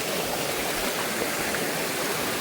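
A stream of water rushes steadily near a village waterfall, a dense, continuous wash of noise that stays even and close throughout with no voices.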